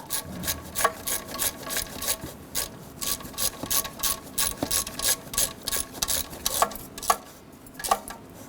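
A hand ratchet tightens heat shield bolts under a 2008-2012 Honda Accord, giving a steady run of close, crisp clicking strokes with brief pauses between pulls.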